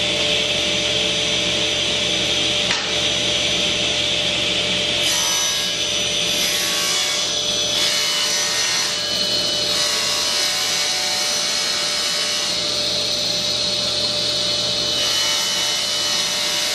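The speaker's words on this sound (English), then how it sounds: "right now I've got a piece of 1/2-inch Baltic birch plywood, and we're going to rip some sides." A saw rips through half-inch Baltic birch plywood in a workshop, giving a continuous loud whining, rasping roar that holds steady for the whole stretch with slight changes in pitch as the cut progresses.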